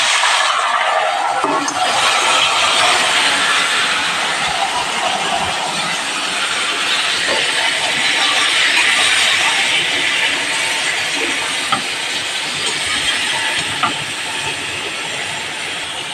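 Ridge gourd dropped into hot oil with a bay leaf, giving a loud, steady, broad sizzle that continues throughout.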